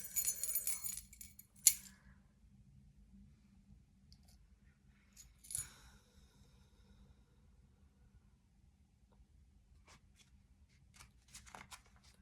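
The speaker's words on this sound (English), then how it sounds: "This is a bunch of keys." A bunch of metal keys jangles in bursts, with rattling clinks at the start, again midway and near the end, separated by quiet pauses, fairly close and soft, without speech.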